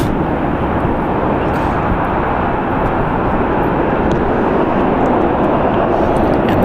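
A Boeing 747 jet departs San Francisco International Airport for Frankfurt, producing a loud, steady, broadband engine roar that holds without a break from start to end.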